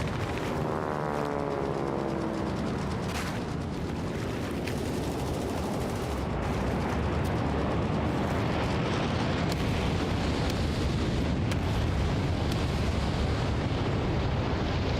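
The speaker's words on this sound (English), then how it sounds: "The commander's bringing in the napalm bomber." Napalm bomber strike in Hell Let Loose Vietnam sets off a long, loud roar of fire and explosions, with rumbling blasts and crackling bursts that build and continue across the whole stretch, and no talking.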